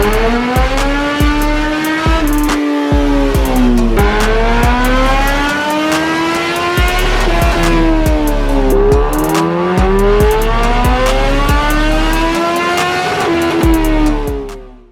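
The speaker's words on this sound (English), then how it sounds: "we had the ZX-14r on the dyno" A 2024 Kawasaki ZX-14R Anniversary Edition sport bike revving hard on a dyno: loud, continuous engine howl with rising and falling pitch sweeps and sharp breaks, up close and steady throughout, with no voices.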